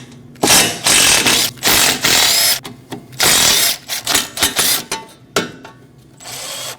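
A hand ratchet loosens the four 10mm bolts on a rear wheel backing plate of a 2014–2023 Jeep Cherokee, giving loud, close bursts of rapid clicking with short pauses between strokes.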